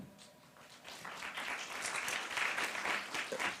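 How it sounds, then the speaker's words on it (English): Audience applause greets a panel discussion at a European strategic autonomy conference, a moderately loud wash of clapping that builds after a moment and holds steady to the end. "On peut les applaudir."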